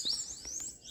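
A coleiro, the double-collared seedeater, gives a quick, faint high chirp with a rising sweep, a brief bird call heard alone.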